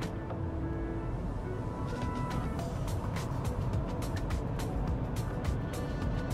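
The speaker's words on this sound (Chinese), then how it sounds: "Full throttle" A Geely Galaxy E5 electric car accelerating hard at full throttle in a straight-line run, heard as a steady broadband road and wind roar with faint whine, continuous throughout.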